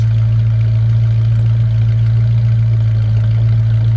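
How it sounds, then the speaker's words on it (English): A 1969 Dodge Dart GT with dual exhaust idles steadily, giving a loud, deep, constant rumble close by with no voices over it. "It sounds great. Like the dual exhaust."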